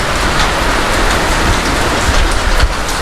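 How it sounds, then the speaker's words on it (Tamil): Steady rain falls outside, a dense, even hiss of drops on surfaces that stays loud and constant the whole time, with no voices. "இங்கே வந்து பார்த்திங்கன்னா மழை பெய்யுது."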